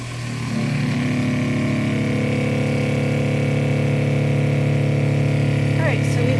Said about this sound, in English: Turning the pump on.